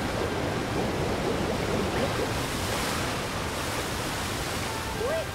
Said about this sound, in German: Wie laut der Wasserfall ist